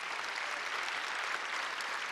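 An audience at a conference claps in a short, even burst of applause, moderately distant and steady, with no voices over it.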